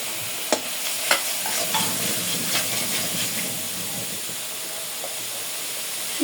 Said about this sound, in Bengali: মশলাটা একটু কষাই নেব হালকা।